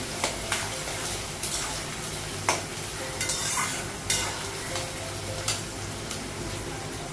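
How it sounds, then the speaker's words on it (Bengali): Onions fry in a pan with a constant close sizzle, while a spatula scrapes and stirs them in irregular strokes every second or two, moderately loud and free of speech. "পেঁয়াজটা একটু ভেজে নেব"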